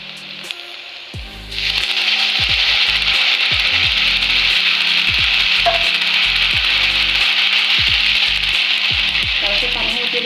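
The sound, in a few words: frying and stirring egg Maggi noodles in a pan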